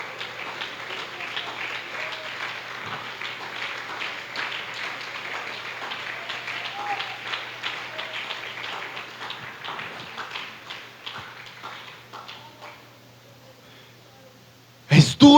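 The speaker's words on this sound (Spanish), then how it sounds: "Ríndele ese aplauso a Jesús." A church congregation applauds for Jesus. Broad, steady clapping runs for several seconds with a low hum underneath, gradually thins and fades, and a sudden loud knock comes at the end.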